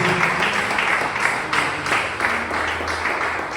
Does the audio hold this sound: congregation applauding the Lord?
yes